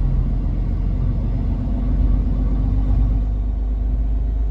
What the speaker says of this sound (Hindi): बट करेंगे कैसे वो देखिए पीछे तक कहाँ तक जाम लगा भाई